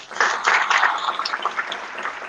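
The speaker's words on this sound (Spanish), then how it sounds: "un fuerte aplauso para el maestro" A festival audience gives a strong, steady round of applause for an honored film maestro, dense clapping sustained throughout without any talking over it.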